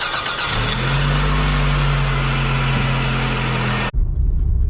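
A car drives after a wheel bearing replacement, its engine droning loud and steady with a rising pitch. It cuts off abruptly near the end, leaving a brief rush of noise.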